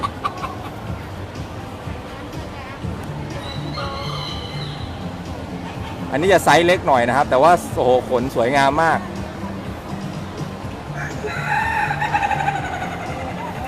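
Mini bantam chickens cluck, and one rooster lets out a loud, close crow midway, with more clucking near the end while someone talks throughout.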